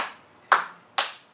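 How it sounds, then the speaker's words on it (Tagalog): Two sharp, close hand claps about half a second apart in a clapping game, each ringing briefly in a quiet room. "Palakpak ka pa."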